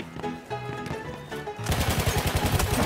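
Rapid automatic gunfire bursts in the Battlefield 1 video game, loud and close, erupting after a tonal musical stretch and continuing as a fast rhythmic stutter to the end.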